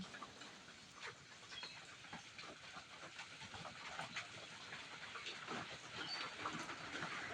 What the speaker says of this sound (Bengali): আবারও আমি তেলের ভিতর কিছুটা দিয়ে দেব, দিয়ে কিন্তু আমি একইভাবে ভেজে নেব।